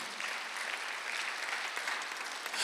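A congregation at a Korean Sunday church service claps together in a soft, steady patter of many hands, fairly distant and with no voices over it.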